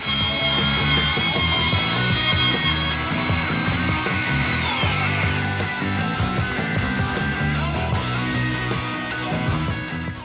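A power tool, likely a router, cuts a stopped groove into a wooden toolbox panel for a box-joint toolbox, a loud, steady, whining roar held close and unbroken throughout.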